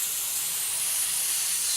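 Steady airbrush or spray-can hiss while white base coat is sprayed onto a 1/48 Hasegawa Nakajima B5N2 Kate plastic model kit, a continuous, even, moderately quiet rush of air with no pauses and no talk.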